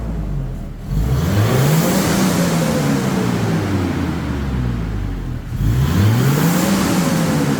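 A car engine running throughout a carbon-cleaning and valve-adjustment service, revving up twice in rising sweeps and settling into a steady, loud idle-to-mid drone between them, close by with no talk.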